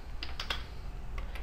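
Keys clatter on a computer keyboard in a few quick bursts of typing, close and moderately loud over a steady low background hum, with no voices.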